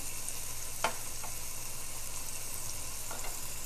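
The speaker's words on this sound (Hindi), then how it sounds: "ये गर्म हो जाए तो इसमें आमलेट की तरह कटा हुआ जो है वो प्याज आपने 1-2 टेबल स्पून डाल देने हैं" Chopped onion and freshly ground garlic frying in hot oil make a soft, steady sizzle with a few light stirring taps, faint and close, with no talking.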